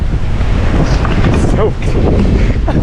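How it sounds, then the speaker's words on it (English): Rain and wind whip across a road in a loud, roaring rush buffeting the microphone, steady throughout, with a voice faintly present under the noise. "look at the rain whipping across the road"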